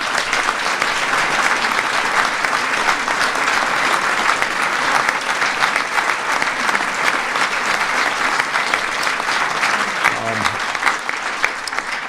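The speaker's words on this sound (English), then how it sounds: "Please give them a big round of applause." Loud, sustained applause from a large audience at a presidential bill-signing ceremony, a dense, even wash of clapping that lasts throughout and begins to thin near the end.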